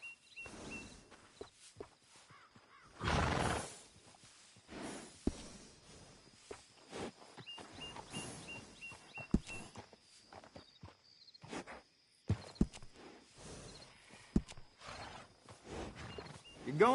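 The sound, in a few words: horse walking and whinnying in video game Red Dead Redemption 2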